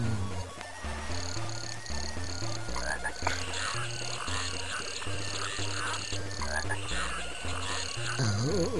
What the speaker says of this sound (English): Dude, that frog appeared out of nowhere.